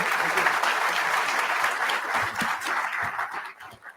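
An audience at a history lecture gives the speaker a warm welcome, with loud, sustained applause from many hands that thins out and fades at the end.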